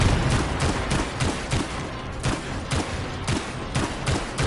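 Gunfire in the Anthem video game on PS4 comes as rapid, loud bursts of repeated shots in an irregular rhythm, with no talking over it.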